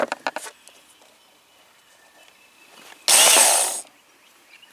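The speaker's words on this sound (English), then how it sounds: "Sanding belt is going around this way." A belt sander runs with its sanding belt moving while a knife spine is sharpened at 90 degrees, a steady hiss and whir rising loudly for under a second after quieter clicks and light mechanical noise.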